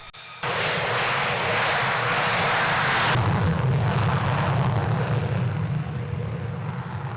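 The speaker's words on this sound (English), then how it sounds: "The roar of dozens of Allied fighter aircraft engines filling the air" Dozens of NATO fighter jet engines roar during a large air exercise over Europe, a loud, dense, continuous rumble that surges in intensity partway through and holds steady to the end, with no voices.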